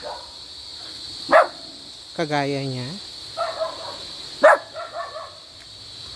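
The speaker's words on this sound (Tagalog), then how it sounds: "May mga aso sila dito na hindi napapagod tumahol." At an overnight campsite at Tagpuang Batis on Mt Parawagan in Rodriguez, Rizal, dogs bark in a few sharp bursts, with a person speaking briefly and a steady insect drone behind them.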